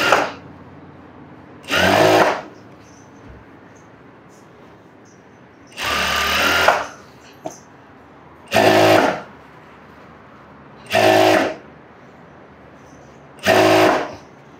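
A sewing machine stitches fabric in five short, loud whirring bursts separated by pauses of a couple of seconds, heard close up with no voices between the runs.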